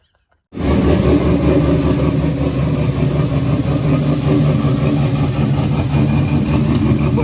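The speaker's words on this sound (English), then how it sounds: "That exhaust sounds great." After a brief silence, a drag truck's engine fires and settles into a loud, steady idle through its exhaust, a deep lumpy rumble with a constant pulsing throb continuing close by.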